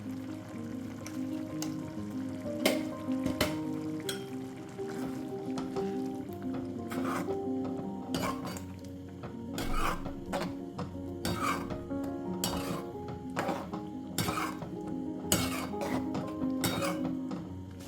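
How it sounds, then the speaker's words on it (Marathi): Methi dal with jaggery and salt simmers and sizzles steadily in a pot, a continuous close bubbling hiss broken by frequent brief clicks and scrapes of stirring. "आपली डाळ शिजत आहे"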